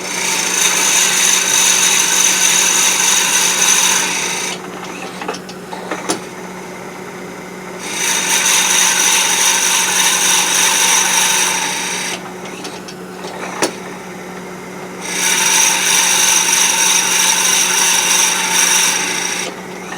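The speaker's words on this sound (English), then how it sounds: "Now I'm going to try and drill all the way up to somewhere in this area." Drill bit boring into a wooden peppermill blank on a wood lathe, loud steady grinding in three long bursts separated by short quiet pauses with a few clicks.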